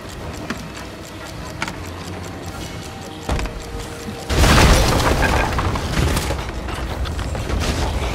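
A cannon in a video game fires cannonballs, with a sudden heavy boom midway that rolls into a rumbling wash of noise. Fainter clicks and mechanical knocks come before it.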